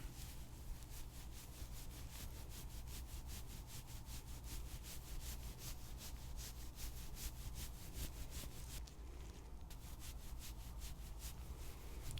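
A small scrubber rubs steadily over a scalp in quick, close strokes during a school-nurse lice treatment, a continuous soft scratchy texture with no talking.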